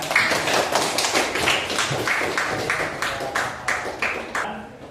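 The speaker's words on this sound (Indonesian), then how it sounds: "kasih tepuk tangannya" Students in a classroom clap together in a steady, rhythmic pattern, sharp even beats repeating close by for several seconds with no talking over them.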